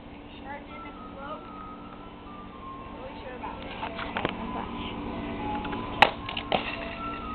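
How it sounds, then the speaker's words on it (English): An ice cream truck jingle plays faintly in the distance, a thin looping melody running steadily under nearby voices and scattered clicks and bumps. "I hear the ice cream truck."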